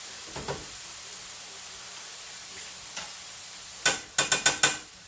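Mushrooms sauteing in butter in a pan give a faint low sizzle, broken by a few soft taps and then a quick run of four or five sharp clicks of a utensil against the pan near the end.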